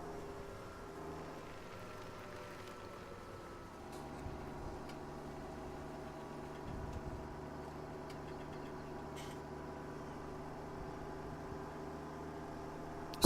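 A tractor engine in Farming Simulator 2017 drones steadily under a heavy load, a continuous low mechanical hum with faint background hiss and no talk over it.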